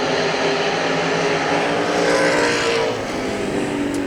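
Dirt track race cars roaring around Hagerstown Speedway during a six-lap qualifier heat, a continuous loud engine drone that swells and fades as cars pass, with no talk over it.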